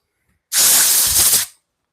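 A one-second burst of compressed air blasts loudly through freshly removed parts during a Stihl MS 500i chainsaw rebuild, a steady broadband hiss that starts and stops abruptly in an otherwise quiet workshop.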